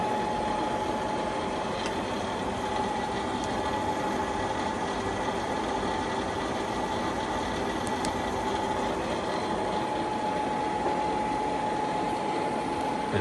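A used 2014 Okuma Genos L300E-MY CNC lathe running its live tooling, a steady machine hum with a constant whine, even and unbroken at close range with no voices.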